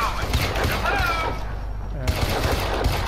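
Gunfire in GTA IV with the Crysis mod, rapid punchy shots with heavy low thumps, mixed under a voice talking over the action.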